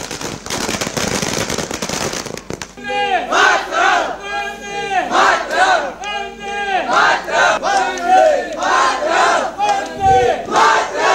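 Villagers celebrating in their village: a burst of crackling firecrackers at first, then a crowd shouting and cheering in loud rhythmic chanting waves, close and energetic.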